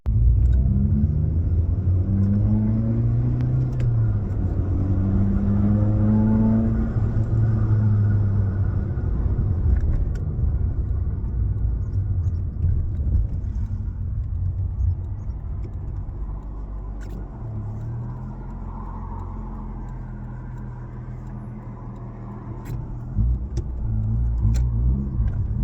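A Toyota Corolla's engine runs steadily on a bumpy road, a continuous low rumble with gentle rises and falls as it drives along, no talking over it.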